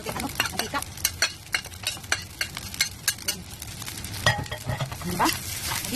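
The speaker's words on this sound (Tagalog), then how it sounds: "At ilagay na natin itong chicken at mushroom na niluto natin kanina." Cooked chicken and mushroom stir-fried in a pan with a little oil, a spatula scraping and clattering in quick irregular strokes over a soft sizzle, close and fairly loud with no talking.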